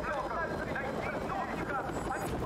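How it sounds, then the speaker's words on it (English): A helicopter in Call of Duty: Modern Warfare Remastered whirs and thrums at moderate loudness under a wind-like roar, with speech mixed over the top throughout. "Helicopter."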